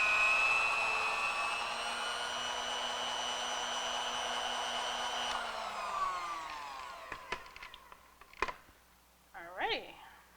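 An electric hand mixer whirs steadily as its beaters blend cake mix in a home kitchen, a close, even motor hum that winds down near the end, followed by a few clicks and light clatter.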